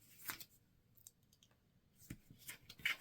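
Scissors snip through paper to cut out a long flower stem for a folded paper hyacinth, giving a few faint, crisp clicks and cuts spaced apart in a quiet room.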